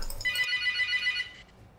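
A telephone ringtone sounds on a teammate's end during a League of Legends match, a short electronic ring lasting about a second, moderately loud and heard alone.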